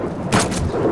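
One loud, close gunshot crack in a video game, a single short burst over a steady low background rumble.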